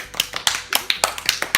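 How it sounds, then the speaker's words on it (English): A few people at home clapping in a short, uneven round of applause for Mommy, with about eight sharp, close claps spread over a second and a half. "Now we're gonna give Mommy a round of applause"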